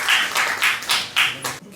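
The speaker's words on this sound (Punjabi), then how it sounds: "ਉਹਨਾਂ ਦੀ ਜ਼ੋਰਦਾਰ ਤਾੜੀ।" Audience applause for a poet at a multilingual poetry recital, a steady burst of hand clapping from a crowd in a hall, loud and sustained for a couple of seconds before cutting off.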